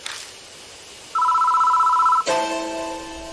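A telephone rings in the Death Mark horror video game: one long, loud electronic trill burst with a rapid warble, beginning after a quiet stretch and breaking off abruptly into a sustained tonal ambience.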